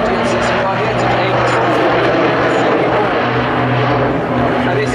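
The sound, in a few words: Jet Pitts special aircraft flying at airshow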